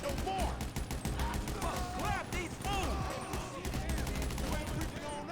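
Dense automatic gunfire from the video game GTA V rattles almost nonstop, with game effects layered in and a voice speaking now and then.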